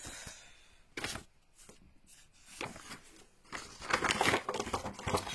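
Packaging of a coloring stencil set being unwrapped, close crinkles and rustles in short bursts that grow busier and louder toward the end, with no one speaking.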